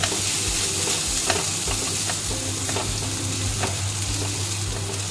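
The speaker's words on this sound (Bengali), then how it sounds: "এটা পুরো নিরামিষ, সেটা এই শাকটা ভাজা হচ্ছে।" Notey shak (amaranth greens) frying in a pan for a vegetarian dish, with a steady sizzle under scattered sharp crackles and pops, heard alone without talk.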